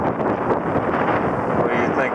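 Strong wind buffets the microphone on a sailing boat during the Everglades Challenge, a loud, rough, continuous roar with gusty rumble close up and no clear talk.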